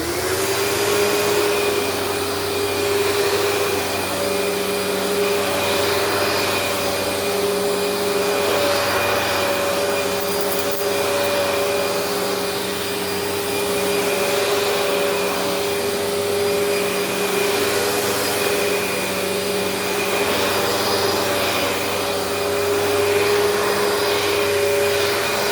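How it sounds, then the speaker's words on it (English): A restored commercial Kenmore vacuum cleaner runs on carpet with a constant loud motor whine and airflow roar, steady and close for the whole stretch, with no voices. "Hey, Kenmore, do you think you can clean my carpet up for me?"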